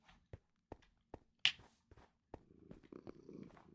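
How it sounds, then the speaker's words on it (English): A cat purrs softly at close range in a quiet outdoor setting, with a few sharp taps and a brief bright chirp early on, then a steadier low rumbling texture toward the end. "And you start to purr."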